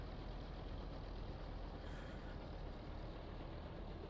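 A helicopter engine runs in Microsoft Flight Simulator 2020 with a continuous, even, low broadband drone, quiet and unchanging throughout with no voices.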